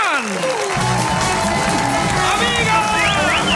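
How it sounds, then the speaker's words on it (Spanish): A television studio audience applauds and cheers to welcome two telenovela actresses, with loud sustained clapping, whoops and shouts filling the room while voices call out over the noise. "Un aplauso para recibir a Viviana Serna y Ana María Estupiñán."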